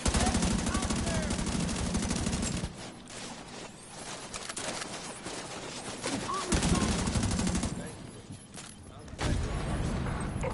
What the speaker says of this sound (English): He's blind shooting me.